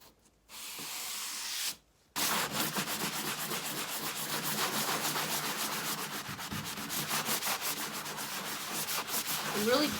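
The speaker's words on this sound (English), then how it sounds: "I feel like it needed to be sanded." A raised stencil being lightly sanded by hand, giving a steady, close rasping rub that runs continuously after a brief pause near the start, with no talking.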